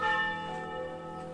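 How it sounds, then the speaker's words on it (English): A church bell in a medieval Tuscan bell tower strikes once, a clear ringing tone with many sustained overtones that slowly fade, heard alone without talk. "Bell in the medieval bell tower strikes on the hour,"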